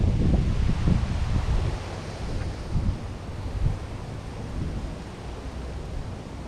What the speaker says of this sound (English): The wind, it's blowing this way.